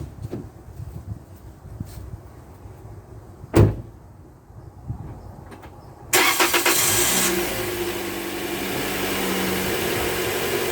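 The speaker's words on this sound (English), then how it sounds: "I'm gonna start the car and see how it is." A 2017 Toyota Corolla starts up just after a new battery is fitted: a brief cranking burst, then a steady engine idle, close and alone, with an earlier door-like thump.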